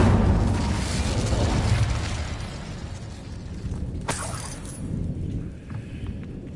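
Fire spell cast in a Harry Potter video game, heard as a loud rumbling blast that fades, followed by a sharp crackling burst around the middle and a quieter rumbling tail, with no talking.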